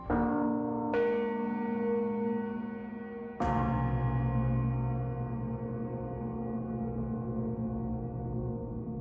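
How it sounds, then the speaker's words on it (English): A deep church-style bell chime rings from the Time Grappler in Andor Season 2, struck three times with long ringing overtones that swell and linger, each new strike layering over the fading hum of the last. "we hear the chime of the Time Grappler's bell."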